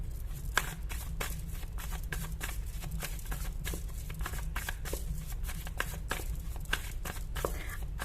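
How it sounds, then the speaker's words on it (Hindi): Tarot cards shuffled and drawn in a steady run of quick, crisp riffling flicks, close and fairly loud over a low constant hum, with no talking. "मैं कुछ कार्ड्स और निकालूंगी"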